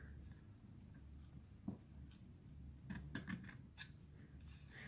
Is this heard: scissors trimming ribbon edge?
yes